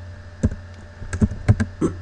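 Keystrokes on a computer keyboard while running a Python file in IPython: about six to eight distinct clicks in an uneven rhythm over a low steady hum, close and fairly clear, with no talking.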